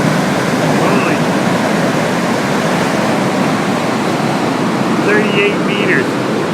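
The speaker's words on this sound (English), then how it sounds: "There's the water going down." Rushing water pours down from beneath a high bridge, a loud, dense, unbroken roar that masks everything else for the whole stretch.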